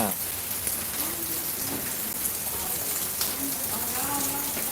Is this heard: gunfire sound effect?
no